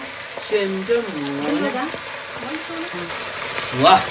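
A Kozhikode-style snack deep-frying in hot oil crackles and bursts now and then, with a sharper pop near the end, while voices talk over the steady frying.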